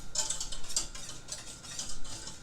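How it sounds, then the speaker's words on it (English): A whisk stirs salt into dry ingredients in a bowl for a possum pie, giving faint, quick metallic scraping and ticking strokes in an irregular rhythm, close by and with no talking. "I'm going to give that a whisk,"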